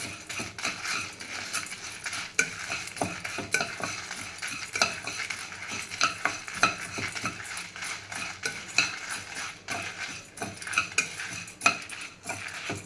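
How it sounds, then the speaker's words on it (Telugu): Fenugreek seeds dry roast in a pan for menthi karam, heard as a busy stream of close scraping and clinking as a spatula stirs the seeds against the metal, with only a faint sizzle beneath and no voices. "దీన్ని ఇప్పుడు డ్రై రోస్ట్ చేద్దాం."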